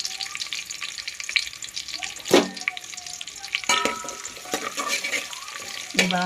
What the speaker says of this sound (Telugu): మొత్తం బాగా ఫ్రై అయిన వరకు అయితే తిప్పేసుకున్నాము